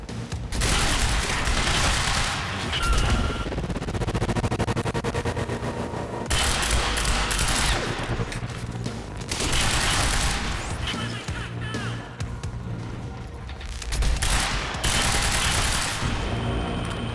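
Explosions and heavy gunfire from the video game Quantum Break, with dense bursts of rapid shots, crashing booms and loud sustained action that swells and drops in waves.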